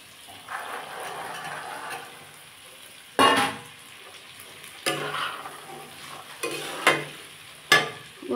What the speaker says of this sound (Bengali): আমি এবার কড়াইশুঁটিগুলো দিয়ে দেবো।